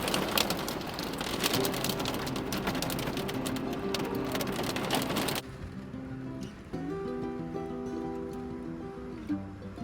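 Heavy rain pours down during a storm on a long road trip across North America toward Alaska, a dense, loud hiss that drops to a softer patter partway through, with a faint tonal background.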